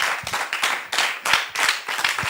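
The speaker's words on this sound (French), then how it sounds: "Est-ce qu'on peut l'applaudir pendant qu'il s'avance?" An audience at a church-organised Bible knowledge contest claps for a contestant with a short burst of loose, uneven applause from a small crowd, fairly close.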